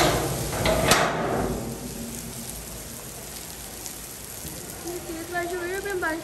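Heavy rain on a morning: a steady wash of falling rain and drops hitting surfaces, with a sharp clatter near the start and someone speaking over it toward the end.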